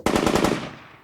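Light machine gun firing a short rapid burst of about six shots, loud and close, with a ringing tail fading after the last round.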